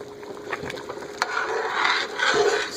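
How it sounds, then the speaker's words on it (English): A spoon scraping and swirling around a pot of chicken broth as a stick of butter melts in, giving a continuous close rasping stir with light sizzle and occasional clinks, no talking. "Stir that up."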